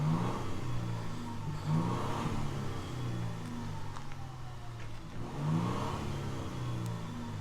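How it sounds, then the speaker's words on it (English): Toyota Tundra TRD Pro with a twin-turbo V6 hybrid iForce Max engine and TRD catback exhaust, heard from the interior with the door open, revving in two swelling pulses over a steady idle rumble. "remind you of what this twin turbo V6 hybrid iForce Max sounds like"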